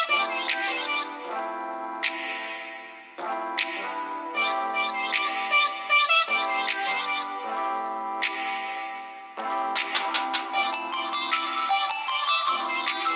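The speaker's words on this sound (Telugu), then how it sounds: "సింక్ అయిన తర్వాత ఇమీడియట్గా ఒకేసారి సాంగ్ ప్లే అవుతుంది" One song plays at the same moment through several phone speakers synced together. It sounds thin and tinny, with no bass, and runs steadily with beats and melody, loud and close, with no talking.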